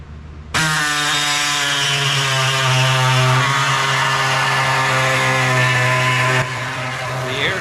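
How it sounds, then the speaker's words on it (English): Air body saw cutting the metal trunk floor of a Chevelle: a loud, continuous buzzing rasp starts abruptly and runs for about six seconds, then drops to a lighter idle. "Saw or body saw works great with a new blade, but it is very loud."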